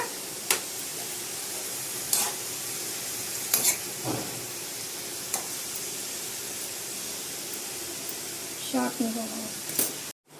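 A spoon stirs vegetables with salt and turmeric in a pan for cauliflower curry, giving soft scraping and occasional light clinks over a faint sizzle, at low level.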